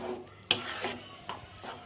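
A lid is set down on a pan of tomato pickle with a sharp metallic clink, followed by a couple of fainter scraping knocks as it settles, close and quiet.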